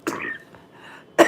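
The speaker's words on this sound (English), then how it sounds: "I'm sorry about the cough." A woman with a cold gives a short, close, harsh cough, then after a quiet gap starts a second abrupt cough burst at the very end.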